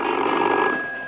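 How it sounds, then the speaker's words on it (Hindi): Telephone ringing indoors in a 1968 Pakistani film scene, a steady continuous electronic ring held at even loudness for about a second, heard alone without voices. "हर 2 मिनट बाद टेलीफोन आ जाता है।"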